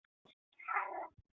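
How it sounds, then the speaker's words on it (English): A house cat meows once in a drawn-out, fairly close call, preceded by a couple of short faint chirps and followed by a soft thump, with no talking over it. "Can you hear my cat?"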